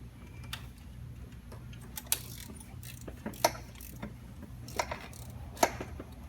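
A socket wrench ratchets as it tightens an oil pressure sensor on an Ecotec 2.4 engine, producing faint, sparse mechanical clicks scattered over a quiet, low background hum, with no talking.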